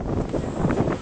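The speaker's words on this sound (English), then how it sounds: "It's too windy for that, mate." Strong wind rushes and buffets across the microphone in a brief, continuous gusty roar with no voices.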